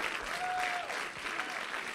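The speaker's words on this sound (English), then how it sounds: "Round of applause for this man." A crowd at a Classic Tetris World Championship main-stage qualifying event gives a brief, steady round of applause, dense and continuous, with a faint tone sounding over it.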